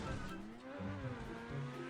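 A fast car racing in the GTA 5 video game, its engine revving and pitch rising and shifting continuously over two seconds, with faint tire noise, loud and close.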